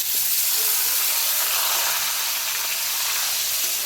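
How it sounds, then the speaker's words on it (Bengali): Chicken pieces sizzle as they drop into hot oil seasoned with cumin seeds and bay leaf, a loud, steady hiss of frying that fills the whole stretch without pause, close and alone with no talking. "এবার একটু সামান্য হালকা নেড়ে আমি মাংসটা দিই।"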